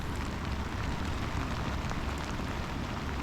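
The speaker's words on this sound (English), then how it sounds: "it's absolutely heaving it down." Heavy, cold rain pours onto a loch in a dense, steady hiss of drops with no break or talking throughout.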